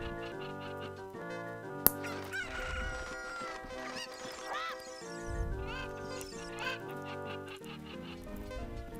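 Video-game chickens in Zelda: Ocarina of Time cluck and crow over busy game music, with a sharp click near the start and several short bird calls scattered throughout.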